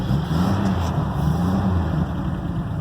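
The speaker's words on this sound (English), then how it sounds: "I don't know if you can hear the engine right now" A 1942 Pontiac two-door sedan engine runs at a steady, loud, close idle, a continuous low rumble with a slight rise and fall and no talking.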